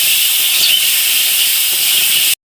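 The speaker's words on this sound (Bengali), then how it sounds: "ওই যে কড়াইতে আলু ভেজে দিচ্ছি" Potatoes fry in a wok, giving a steady, loud broadband hiss of sizzling oil that runs unbroken for about two seconds and then cuts off abruptly.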